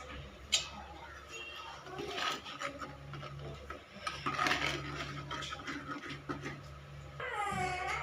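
Coriander powder and masala are stirred into a fish curry, with close, irregular scraping and clinks of a spoon against the pot, a voice talking intermittently over it.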